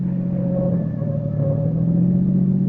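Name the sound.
car driven fast on curving road, radio drama effect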